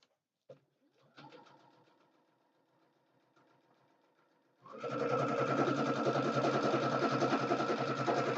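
Sewing machine stitching a hankie, starting with faint slow clicks and hum, then running fast in a loud steady whir up close for the last few seconds.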